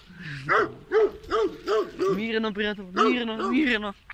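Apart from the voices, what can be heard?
dog barking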